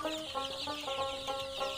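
Twenty-five-day-old Egyptian Fayoumi chicks chirp in a soft, continuous chorus of high peeps, fairly faint with no talk.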